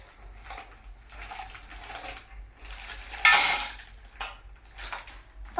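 Biscuits are pounded and crushed in a pot for a homemade biscuit cake, with scattered clinks and scraping knocks, a sharper clatter in the middle, and quiet gaps between the strikes.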